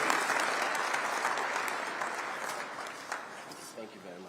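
Dense applause from a conference audience welcoming a speaker at an investment event, many hands clapping steadily and fairly loud, slowly tapering toward the end as a voice begins to speak.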